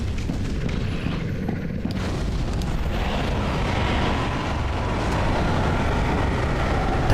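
Dragon explosions in Dark Souls 3 roar as a continuous, loud rumbling barrage with deep booms, filling the whole stretch without pause.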